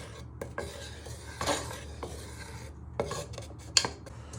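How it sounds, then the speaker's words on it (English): A wooden spoon scrapes and clatters against a pan as frying sausages are stirred, with soft sizzling underneath and a few sharp metallic knocks. "With your wooden spoon, you just want to give them a little stir"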